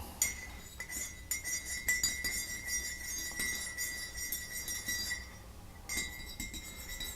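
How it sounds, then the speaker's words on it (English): A spoon clinks repeatedly against the inside of a glass of tea while honey is stirred in, a quiet run of bright, irregular taps with a short pause before the clinking resumes. "sometimes it takes a long time to stir honey into tea"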